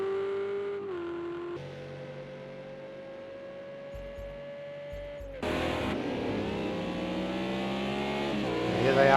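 GT3 race cars in a sim race at Mount Panorama Bathurst, with a steady high engine whine holding pitch, then shifting down and climbing again as a second car joins with a louder, rougher roar.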